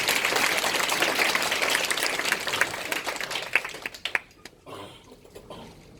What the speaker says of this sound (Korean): 우리 두 분께 감사의 박수 한번 쳐주시면.